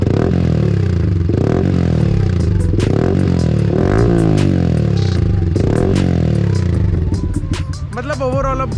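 A Yamaha R15 M fitted with a loud Leo Vince exhaust revs repeatedly close by, its pitch climbing and falling in quick surges over a rough, clattering idle, with a person speaking briefly near the end.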